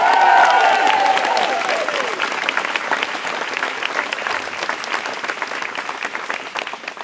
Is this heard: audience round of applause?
yes